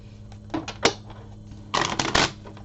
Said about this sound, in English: let me go ahead and just finish shuffling these guys